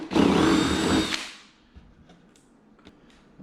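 A power drill bores a half-inch hole in an Ascend 10T kayak, a loud, close whirring burst of about a second that winds down into faint clicks and handling noises.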